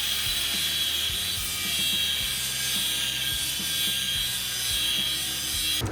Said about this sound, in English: Time to grind down some studs